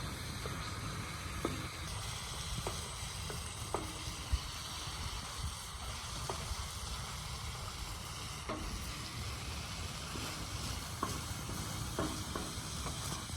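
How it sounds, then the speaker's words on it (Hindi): Chicken and green chilies frying on a tawa while a spoon stirs them, producing a continuous close sizzle broken by occasional scraping clinks of the spoon against the pan. "एक बार चम्मच चला देंगे"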